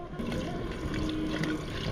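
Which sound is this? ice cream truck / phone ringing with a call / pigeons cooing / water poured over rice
water poured over rice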